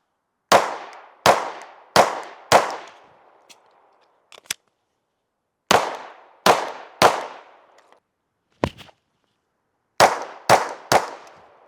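Handgun firing self-defense rounds at a shooting range from about 7 yards with a red dot sight, sharp close shots in quick clusters of three or four, separated by pauses with faint clicks and metallic handling sounds.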